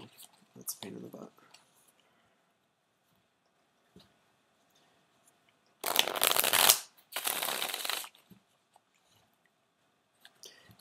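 Tarot cards are shuffled by hand in two quick, crisp bursts of riffling and flicking, close and clear against a quiet room, with a few faint taps between.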